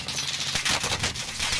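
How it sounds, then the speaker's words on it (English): Close gunfire in Call of Duty Modern Warfare (Warzone Plunder), a quick rapid burst of shots lasting under two seconds, moderately loud and crowded together. "He's shooting at me."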